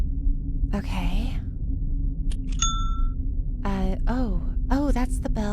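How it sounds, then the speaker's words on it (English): A bell ringing in the video game Myst, a single clear chime standing out briefly amid quiet speech and low background rumble. "that's the bell,"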